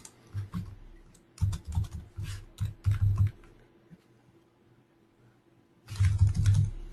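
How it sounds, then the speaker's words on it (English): Computer keyboard typing in bursts of rapid clicks, close and distinct, with a quiet pause in the middle before another flurry of keystrokes. "you got to stop typing"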